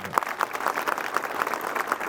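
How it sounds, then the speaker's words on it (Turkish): Audience applause at a Mut municipal event in Turkey marking new vehicles for the council fleet, a moderate, fairly steady patter of clapping with a few sharper claps standing out. "Onlara da bir alkış alalım arkadaşlar"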